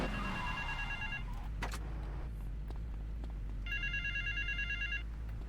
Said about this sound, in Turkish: Telefon yerinden titriyor. Titreşim taktırmışlar.